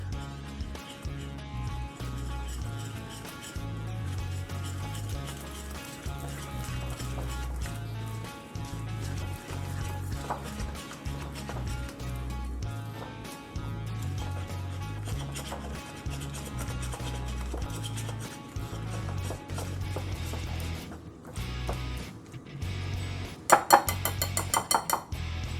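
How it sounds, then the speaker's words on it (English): A whisk stirring flour and milk together in a bowl for pasteis de nata batter, a long run of quick rhythmic metallic clinks and scrapes against the bowl, close and fairly quiet, ending with a brief sharper rattle. "Just gonna whisk that together."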